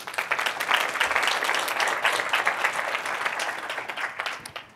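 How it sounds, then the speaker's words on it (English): Sustained audience applause at a career-advancement talk on imposter syndrome, a dense wash of many hands clapping that fills the room steadily and fades out at the end. "So give yourselves a round of applause."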